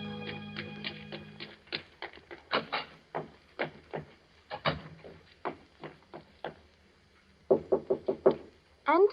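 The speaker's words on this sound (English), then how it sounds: "I waited for her knock." Sharp wooden knocks on a door land in irregular clusters, loud and close, with a few rapid raps near the end, set in an old 1940s radio drama recording.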